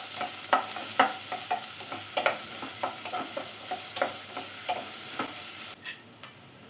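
Onion and crushed green chilies sautéing in a pan for drumstick thoran, a continuous sizzle broken by repeated scraping stirs of a spoon at an uneven rhythm, with a couple of sharper clinks near the end.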